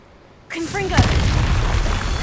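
Confringo fire blast spell from the Hogwarts Legacy video game: a sudden burst at half a second that swells into a booming, crackling blast, with voices and game sound layered over the sustained rumble.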